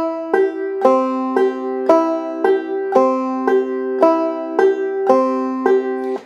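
A clawhammer banjo alternates downstrokes on the first and second strings with upstrokes on the fifth string, giving a crisp, evenly spaced run of about a dozen bright plucked notes, loud and close.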